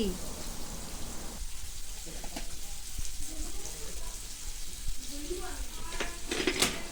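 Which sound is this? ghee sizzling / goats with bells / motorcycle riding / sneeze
ghee sizzling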